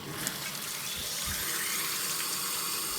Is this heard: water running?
yes